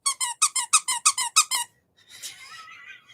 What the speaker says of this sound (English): But he's a dog squeaky toy